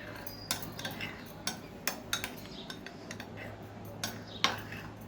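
A spoon mixes pizza sauce with oregano in a bowl, giving quiet, sharp clinks and scrapes of metal against the dish in an uneven rhythm, close and otherwise quiet.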